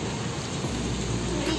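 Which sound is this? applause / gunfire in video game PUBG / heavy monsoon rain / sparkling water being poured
heavy monsoon rain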